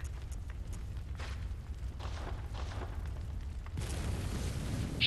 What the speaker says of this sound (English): And we have the flame sprayer.